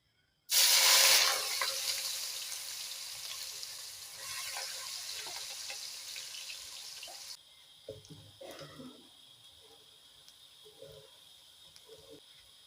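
A burst of water pours and splashes into a pot for several seconds while making masala for chicken shorba, then stops, followed by quieter clinks and handling noises.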